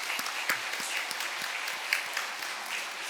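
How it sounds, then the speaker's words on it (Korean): Steady applause from a church congregation at a Sunday worship service, welcoming back two elders' families from a three-month mission, a dense even patter of many hands filling the room without a break. "수고하셨다고 박수 한 번 하십시오"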